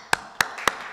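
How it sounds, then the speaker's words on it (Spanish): Four sharp, evenly spaced claps ring out in a school hall during a Chilean secondary school graduation ceremony, each a crisp broadband snap with short decay and quiet between. "Fuerte el aplauso conmemorativo"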